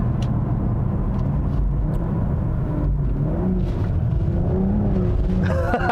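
A 2021 BMW M440i xDrive coupe on the road, its engine rumbling steadily from inside the cabin with a low drone and shifting pitch as it pulls, rising toward the end.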